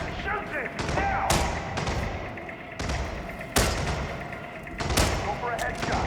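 Gunshots in the Hitman: World of Assassination game, a few sharp thudding shots spaced irregularly over a noisy game background, fairly close and loud.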